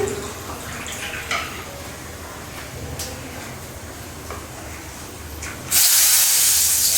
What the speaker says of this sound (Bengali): এবার আমি মশলাগুলোর মধ্যে একটু জল মিশিয়ে মশলাগুলো দিয়ে দিচ্ছি